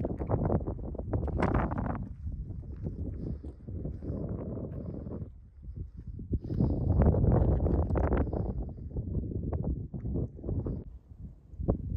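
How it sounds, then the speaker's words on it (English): Gusty mountaintop wind on the Appalachian Trail at Siler Bald buffets the microphone in rough, uneven bursts, with a rustling, roaring texture that swells and eases throughout, close and fairly loud. "Cold and windy up here."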